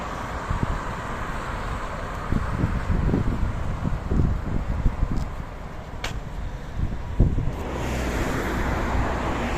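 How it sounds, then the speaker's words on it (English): Road traffic passes along a street beside an industrial estate near a big factory, a steady rumbling wash of passing cars mixed with wind buffeting the microphone, with a few sharper swells as vehicles go by. "Sorry about the traffic."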